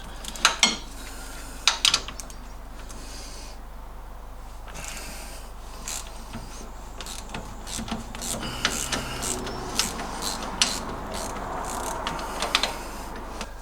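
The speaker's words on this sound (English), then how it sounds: "So we've got a spanner behind and just a little ratchet on the front." Small ratchet and spanner working half-inch headed bolts on an MGB suspension, giving sharp metallic clicks and clinks in scattered bursts, close and fairly crisp, with light handling noise between them.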